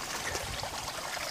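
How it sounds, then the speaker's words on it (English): A small stream gurgles and trickles beside a shady resting spot on a hiking trail, a close, continuous splashing babble of running water with no voices. "you can see the stream gurgling that you hear"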